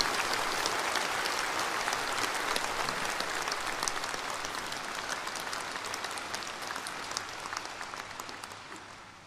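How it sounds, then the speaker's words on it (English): Sustained warm applause from a large audience at an awards ceremony honouring COVID-19 fighters, steady and full throughout before slowly tapering off toward the end. "They deserve our praise and our warm applause."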